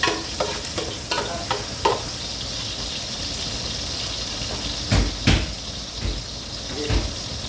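Broccoli sautéing with garlic in a pan: a steady hiss of frying with scraping stirs and a few sharp clacks of a utensil against the pan, loud and close.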